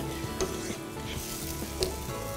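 Spaghetti bolognese beef sauce reducing in a pan, a steady close sizzle and bubbling with a couple of sharp clinks from stirring.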